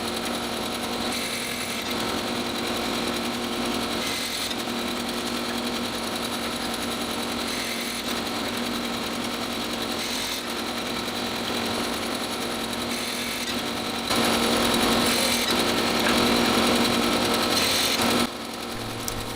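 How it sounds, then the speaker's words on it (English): A saw runs continuously with a steady mechanical chatter, cutting wedges from clamped laminated wood boards for guitar rosettes. It grows slightly louder near the end before easing off. "In a likewise manner, I cut the wedges for the 3 remaining laminated boards to make all 4 of the rosette pattern sets."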